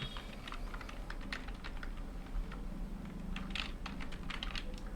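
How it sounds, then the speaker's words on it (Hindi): Someone types a name on a computer keyboard, a steady patter of soft, close key clicks over a constant low background hum, without talking. "नाम टाइप करने के लिए यहाँ पे देंगे हम"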